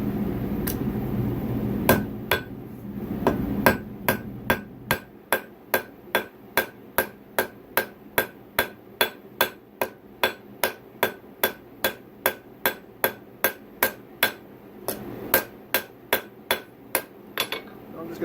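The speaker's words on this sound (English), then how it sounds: "when I'm drawing this side out using the smaller edge of the hammer" Hammer blows ring out on hot steel being forged for a Damascus and tool steel axe, in a fast, steady rhythm, dozens of sharp, bright strikes close by, with brief pauses between runs.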